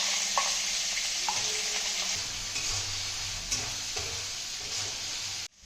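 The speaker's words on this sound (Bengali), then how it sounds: "এখন ছোলা কাটা ভেজে নেবো" Chopped chickpeas frying in a pan, giving a close, continuous hiss and sizzle with occasional stirring scrapes and taps, ending abruptly.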